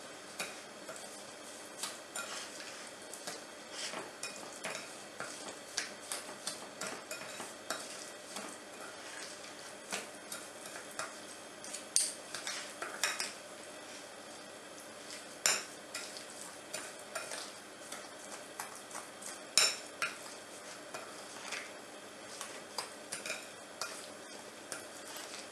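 A spoon stirs face scrub ingredients, including sugar, together in a bowl, giving soft, irregular scraping and tapping that repeats close by and fairly quietly throughout.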